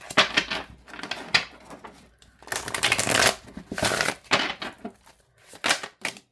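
A tarot card deck with foiled cards is shuffled by hand in repeated bursts of riffling, crisp papery flutters separated by short pauses, close and clear with no talking.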